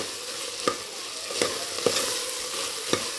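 Mint and coriander leaves fry in a pan with a constant low sizzle, broken by a few sharp scrapes and taps of a stirring spoon against the pan.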